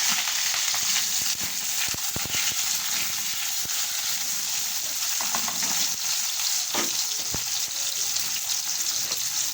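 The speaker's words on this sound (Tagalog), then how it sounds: "Ngayon naman, magluluto tayo ng hotdog. Maglagay tayo ulit ng mantika." Hotdogs frying in cooking oil in a pan, with a steady crackling sizzle that runs throughout, broken by a few sharper pops and faint stirring clatter.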